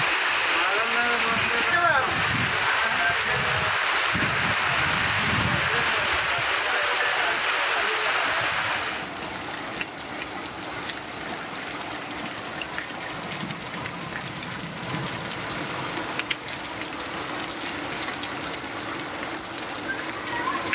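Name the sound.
heavy rain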